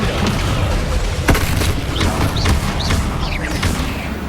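Spells such as Descendo, Bombardo and Incendio explode in the video game Hogwarts Legacy. A sharp boom is followed by several whooshing blasts in quick succession over a dense, rumbling battle din.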